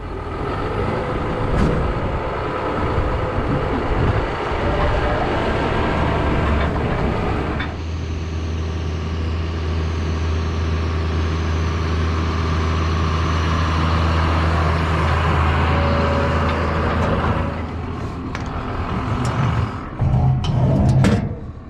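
Farm tractor engine running while cultivating a field before planting turnips, a loud continuous diesel rumble that shifts load partway through and keeps droning steadily, close by with no talk.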